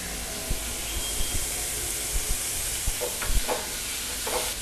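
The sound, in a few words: dried red chillies sautéing in oil for ladies finger kulambu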